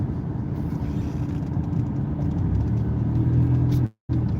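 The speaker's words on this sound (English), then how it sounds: "this is a real peaceful drive, real relaxing" Steady low rumble of a car cruising along a quiet road, an even engine and tyre drone heard from inside the cabin, with no talk, cutting out briefly near the end.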